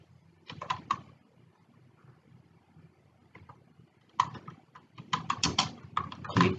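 Bursts of typing on a computer keyboard, a short cluster of keystrokes followed by a pause and then a longer, denser run of clacking keys, close and moderately loud.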